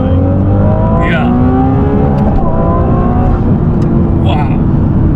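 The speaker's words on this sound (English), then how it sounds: "Sorry, bounced off the rev limiter there." Ferrari 296 GTB hybrid supercar engine revving hard through the gears and bouncing off the rev limiter, loud and close from inside the cabin, with rising engine tones and brief shift breaks under excited talk.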